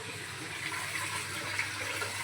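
Water runs steadily outdoors as clothes or dishes are washed, a continuous close splashing hiss with no pauses and no talk.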